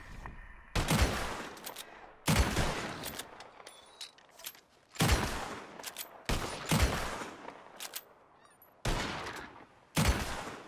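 Shotgun blasts ring out at a bird shooting competition, six loud sharp shots spaced irregularly across the stretch, each with a booming tail and echo, no talking in between.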